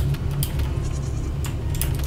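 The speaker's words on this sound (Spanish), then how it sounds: "Así dicen las ovejitas." Sheep in a video game bleat in a few short bursts over a steady low rumble, moderately loud, with no voices.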